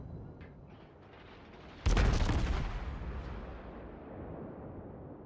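A heavy naval gun salvo in a World of Warships battle involving the cruiser Des Moines, a single loud booming blast that rolls out and decays over several seconds above steady background rumble.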